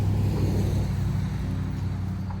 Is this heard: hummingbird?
no